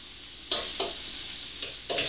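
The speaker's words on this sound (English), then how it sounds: "Lightly saute the onions." Onions sautéing in a hot pan as a pizza topping, a steady soft sizzle broken by several brief scraping stirs.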